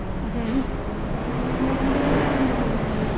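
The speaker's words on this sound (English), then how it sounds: "that truck went past by, so it might be a little loud" Truck driving past outdoors, a steady loud broadband roar of engine and tyre noise with a faint rising whine, filling the whole moment and close to a cheap microphone.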